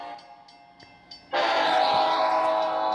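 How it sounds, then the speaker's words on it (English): A grain train passes close by, a few short rhythmic clicks giving way to a sudden, loud, sustained horn blast that holds steady to the end. "It's a grain train."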